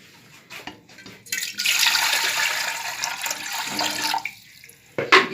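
Water pours steadily into a pressure cooker while steaming sweet potatoes for chaat, a bright splashing rush lasting a few seconds, with brief clatters at the start and end and no talk.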